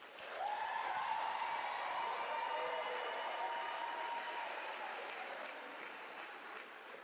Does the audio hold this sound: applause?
yes